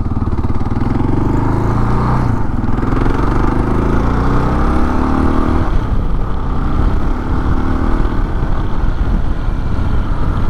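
A 2022 Kawasaki KLR 650 single-cylinder engine revs up on a gravel road, loud and close, its pitch climbing through the gears with a brief dip between shifts and a continuous rough thumping drone.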